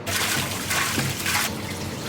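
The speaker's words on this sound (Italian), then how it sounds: "andremo ad aggiungere una parte dell'acqua esclusivamente fredda per evitare proprio il surriscaldamento dell'impasto" Cold water poured into a pizza dough mixture for Neapolitan biga dough, a steady broadband splashing rush lasting about two seconds, close and fairly loud with no talk.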